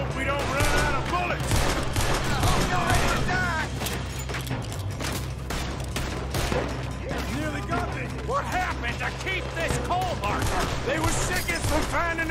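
Rapid volleys of gunfire in the video game Red Dead Redemption 2, a sustained shootout with overlapping shots and booms running throughout, with voices and background music mixed in.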